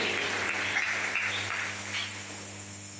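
A church congregation applauds in a steady, dense wash of clapping that holds at an even level throughout, with no voices rising above it.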